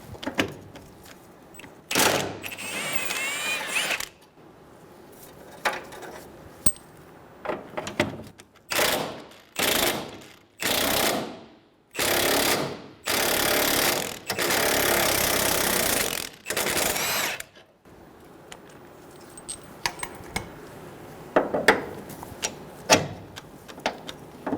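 Bolts come off a 2000–2007 Ford Focus 2.0L engine mount in a series of sharp, regularly spaced bursts of tool noise mid-clip, bracketed by quieter clicks and handling sounds, close and without talking.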